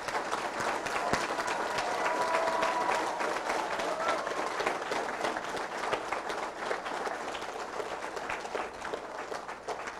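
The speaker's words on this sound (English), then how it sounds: "So please give them a round of applause." Indoor audience clapping for members of an amateur radio club at an astronaut conversation event, steady dense applause throughout, moderately distant, with a voice faintly mixed in.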